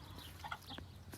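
Blue hens and a rooster in a farm flock give a few faint, short clucks and murmurs against a quiet outdoor background.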